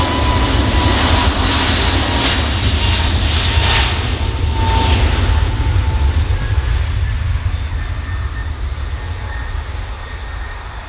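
A light propeller aircraft departs, its engine droning loud and steady for about eleven seconds and easing slightly toward the end, with no voices.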